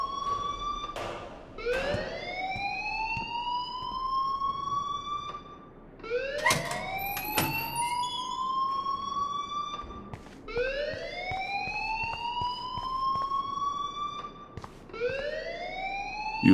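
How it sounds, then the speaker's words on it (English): A fire alarm in the video game Life is Strange blares loudly and continuously, repeating a rising, whooping siren tone about every four seconds. "please turn off that alarm since that's your job"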